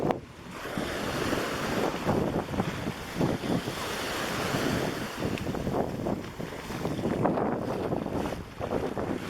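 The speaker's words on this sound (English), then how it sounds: "See water just lapping against the seawall here where it juts out." Seawater laps against a jutting seawall on Edisto Island, with a steady wash of small waves and heavy wind buffeting the microphone throughout.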